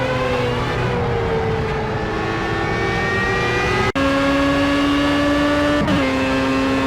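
Formula A open-wheel race car engine in Project CARS at the Brno circuit, a loud, sustained high-pitched whine that steps down abruptly at two quick gear changes and then holds steady.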